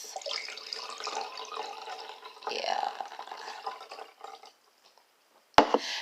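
A drink is poured, a steady liquid stream for about four seconds that fades to silence, followed by a brief voice and a sharp knock.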